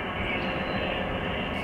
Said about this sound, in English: here they go, the eastbound train